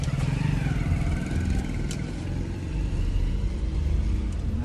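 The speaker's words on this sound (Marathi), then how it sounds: "बस त्या गाड्यांना जाऊ दे." Road traffic rumbling steadily past at close range, a low engine drone with motorcycle and car revving, continuous and fairly loud throughout with no talk over it.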